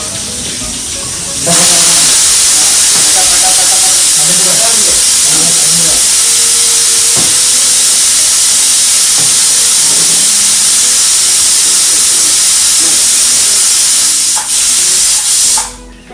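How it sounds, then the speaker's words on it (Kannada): Curry leaves hit hot oil already holding mustard seeds and cumin for a tempering, bursting into a loud, dense hiss that holds steady for about fourteen seconds with faint crackles, then cuts off. "ಕರಿಬೇವು ಸೌಂಡ್ ಬರಬೇಕು"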